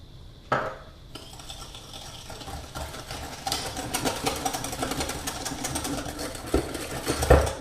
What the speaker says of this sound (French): je vais y ajouter le sucre en poudre et mélanger au fouet bien énergiquement pendant quelques minutes pour que le tout blanchisse